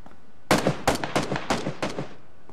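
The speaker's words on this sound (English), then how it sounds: "Everybody's shooting." Gunfire in PUBG, about six loud, sharp shots in an uneven rhythm over two seconds, close and clear, each leaving a short echoing tail, with no talking over them.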